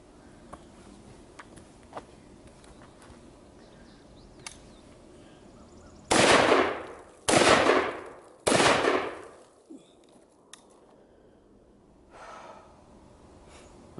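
Three loud gunshots from an MR920 and an Omni 556 10-inch pistol at an outdoor shooting range, fired about a second apart with sharp decaying reports, then a quieter thud; otherwise quiet background.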